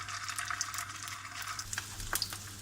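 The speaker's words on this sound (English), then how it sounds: "Get the oil in your saucepan nice and hot and goes the black pudding" Black pudding sizzles and crackles in hot oil in a saucepan, a constant bubbling hiss with scattered sharp pops.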